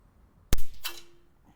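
A PCP air rifle fires a single sharp shot, followed a fraction of a second later by a ringing clang as the pellet strikes a distant metal target, the tone fading over about half a second.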